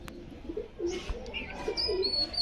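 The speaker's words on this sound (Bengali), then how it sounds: "পাঞ্জাবি পায়রা, মালবাই পায়রা" Punjabi pigeons coo in a loft, soft repeated low calls mixed with a few higher chirps, while someone talks nearby over steady background noise.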